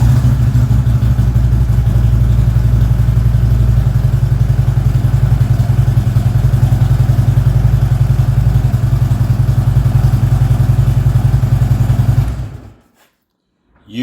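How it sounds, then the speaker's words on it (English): A Harley Davidson motorcycle engine, started on an AGM battery, idles loudly and close with a steady lumpy rumble, then cuts off abruptly into silence near the end. "I think it started a hell of a lot better because it didn't go and then stop when it hit the compression stroke"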